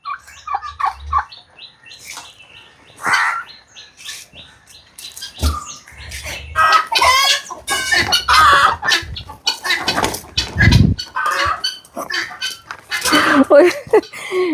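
Backyard chickens on a small home poultry farm cluck and chirp in bursts near the microphone, scattered through a stretch where a person talks over them at length.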